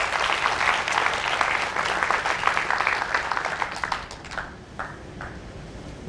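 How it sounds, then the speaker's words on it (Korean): Audience applause at a youth party members' talk concert, a dense burst of clapping that thins into a few scattered claps and fades near the end. "함께 오신 분들께 서로에게 격려 박수 한번 보내주십시오"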